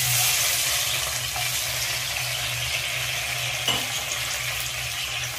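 Cashews and raisins sizzle steadily in hot oil with bay leaf, a cinnamon piece, cloves and cardamom for plain pulao, a loud continuous fry with a couple of faint stirring clicks and no voices.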